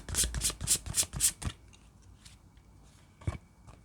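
Romance Angels oracle cards being shuffled by hand, a quick run of six crisp riffling bursts over about a second and a half, then near silence with one more short card snap close by.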